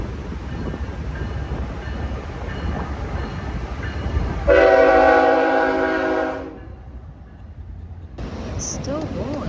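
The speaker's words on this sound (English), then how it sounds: "Comes our farewell, guys, from the train." A passing train lets out a long, loud horn blast over its rumbling wheels, heard from a campsite shaded by large trees. The horn then breaks off while the rumble carries on, and voices can be heard around it.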